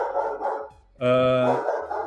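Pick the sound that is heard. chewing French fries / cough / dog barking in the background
dog barking in the background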